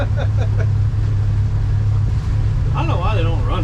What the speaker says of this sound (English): my boat's a piece of crap and I can't slow down